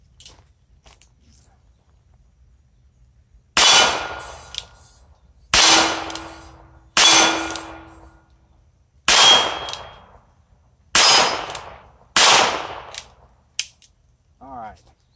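A Ruger Wrangler revolver fires six loud, close shots, spaced a second or two apart, each a sharp crack trailing into a ringing decay, after a quiet start.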